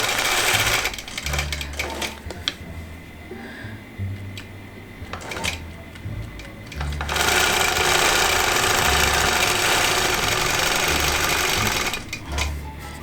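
A longarm quilting machine stitching fabric, its rapid mechanical needle chatter starting and stopping in bursts, then running steadily and louder for several seconds, close by with no talk.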